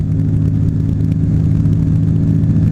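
A light aircraft engine held at full power for takeoff, a loud, steady droning hum with constant pitch and no pauses throughout.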